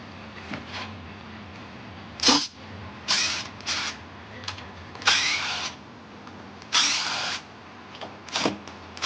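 Power screwdriver driving screws into wood, several short whirring bursts of varying length separated by pauses, close and fairly loud, with quiet handling noise in between.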